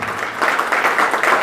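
Applause from an audience welcoming a chief guest at a retirement function for an electricity distribution corporation official, steady dense clapping that swells slightly and holds through the moment.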